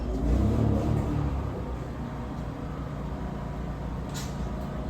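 A tire spins on a wheel balancer, giving a steady low mechanical rumble and whir that swells briefly at the start and then holds an even, moderate level.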